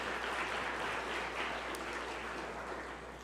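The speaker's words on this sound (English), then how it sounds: "Let's give PwC a round of applause." Audience applause at the Trinidad and Tobago Stock Exchange 40th anniversary conference luncheon, a steady, dense wash of clapping that holds throughout and tapers slightly at the end.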